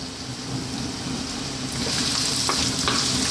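Celery and thyme fry over high heat for a yellow pea vegetable stew: a dense, steady sizzle that grows louder partway through, with a few light stirring clicks near the end and no voices.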